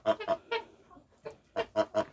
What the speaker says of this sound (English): we scrambled the eggs up for the chickens to eat